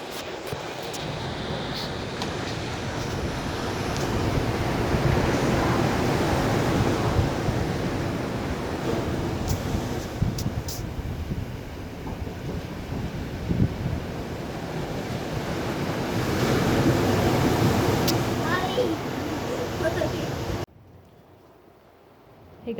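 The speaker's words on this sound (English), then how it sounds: "I will just leave you with a few moments of the waves." Ocean waves break and wash on the shore in a continuous surging roar with wind noise, swelling and easing in long cycles before dropping off abruptly near the end.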